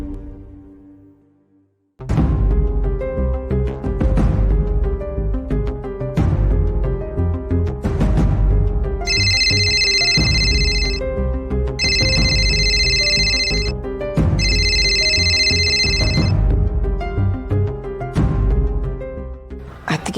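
A telephone rings in short repeated electronic bursts over a loud, continuous musical score in a Kannada television drama scene, with no talk over the rings.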